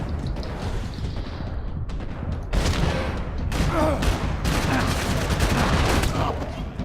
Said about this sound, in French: J'ai mis une balle dans la tête.